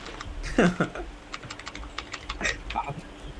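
Rapid clicking of computer keyboard keys during play of the game Naraka: Bladepoint, close and fairly loud, comes in quick irregular bursts while people talk over it.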